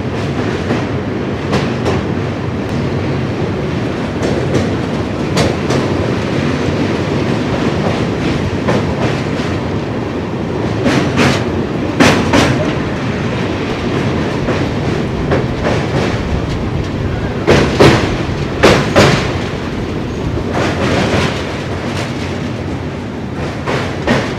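The Paharia Express, running with LHB coaches, crosses a rail bridge. A loud, steady rumble carries on throughout, with rhythmic clickety-clack wheel beats that swell in clusters toward the middle and end.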